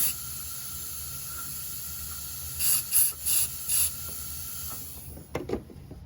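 Compressed air blown through the fuel tank of a Chinese scooter stored for seven years, heard as four short hissing bursts in a row over steady background hiss, then a couple of quicker spurts near the end.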